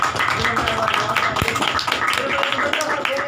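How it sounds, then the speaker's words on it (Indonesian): An audience of youth at a family guidance session claps for performers, a steady mid-level stream of scattered hand claps continuing throughout with some background voices. "Jadi tepuk tangan sekali lagi buat mereka"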